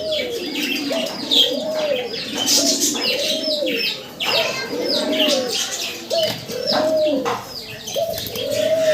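Pigeons at a breeder's loft cooing in repeated rhythmic phrases, close and clear, with soft chirps and a little wing flapping mixed in and a voice occasionally talking in the background.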